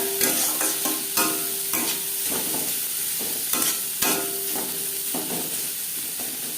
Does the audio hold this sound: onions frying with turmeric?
yes